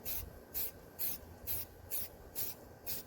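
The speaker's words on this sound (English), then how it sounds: "So the spray paint part is done." Aerosol spray paint hisses onto a tumbler in six or seven short, even bursts, evenly spaced and close up, each a sharp airy spray with quiet gaps between and no talking.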